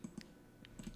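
Typing on a computer keyboard while working in MS Word: a few quiet, close key clicks in an uneven rhythm, alone, with no talk.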